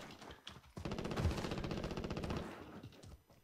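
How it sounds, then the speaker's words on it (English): Rapid automatic gunfire in Call of Duty Warzone rattles in a sustained burst of dense, evenly spaced shots for about two seconds, sounding moderately distant, with a few single cracks before and after. "Is that you guys shooting?"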